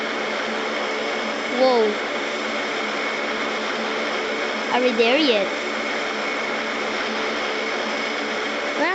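A steady, loud airplane cabin roar with a broad engine drone runs throughout, while people talk over it.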